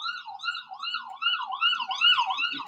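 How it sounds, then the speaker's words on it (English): An ambulance siren wails up and down in a rapid, steady cycle as it passes along a city street, loud and clear with no voices over it. "There's so many ambulances to go up and down my street."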